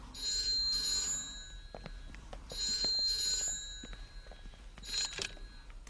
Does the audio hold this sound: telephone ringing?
yes